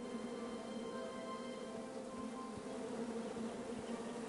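Steady, continuous buzzing of bees in King's Quest, a droning hum with faint insect flutter throughout, moderately quiet and unbroken, no voices.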